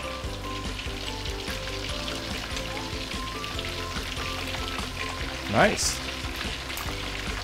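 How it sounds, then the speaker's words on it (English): Chicken pieces marinated in fermented beancurd deep frying in hot oil, giving a steady close sizzle and bubbling throughout, with a brief louder crackle near the end and a person speaking briefly over it. "I'm going to let it to fry for another 3 minutes on this side"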